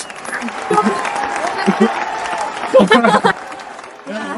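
An audience claps at a talk, a brief burst of applause mixed with voices and a presenter speaking over it.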